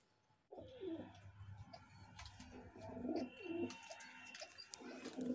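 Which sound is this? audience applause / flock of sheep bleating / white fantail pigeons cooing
white fantail pigeons cooing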